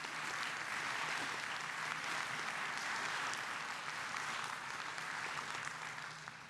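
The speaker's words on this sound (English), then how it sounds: "I don't mind being interrupted by applause" An academic conference audience applauds during the introduction of a career award recipient, a continuous even roar of clapping from a large hall, moderately distant, sustained throughout.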